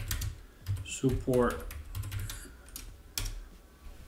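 Rapid computer keyboard typing while someone searches for Nvidia customer support, clicking close and intermittent under a man's speech.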